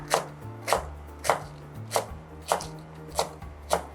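Slow, even knife chops through chives on a cutting board, about seven distinct thuds spaced evenly, close and clear with nothing else around them.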